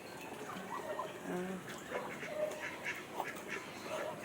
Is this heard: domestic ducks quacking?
yes